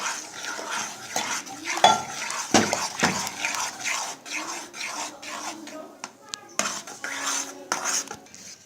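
A spoon scrapes and clinks against a pot while Sa'idi-style asida porridge is stirred in boiling water, giving irregular metallic scraping and knocks up close, with a dog barking at times and brief talk.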